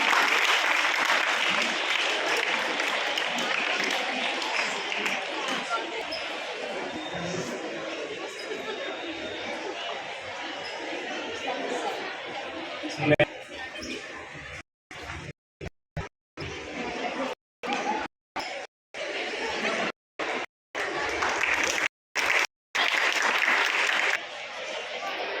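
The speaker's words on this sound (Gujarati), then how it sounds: "તાળીઓના નારે આપણે અભિવાદન કરીશું" A ceremony audience applauds to honour a guest, a broad, sustained wash of clapping with murmured chatter that runs steadily before breaking into choppy, interrupted bursts.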